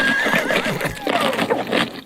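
A horse whinnies with a high, wavering call over a busy background of hoof and stable noise, close and fairly loud.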